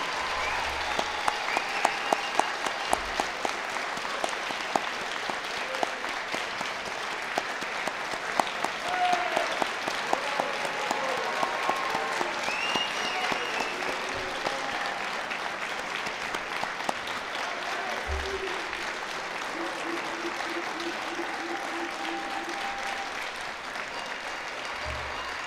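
Sustained audience applause at a 2021 management school graduation ceremony: dense, even clapping fills the hall for about twenty-five seconds with no speech over it.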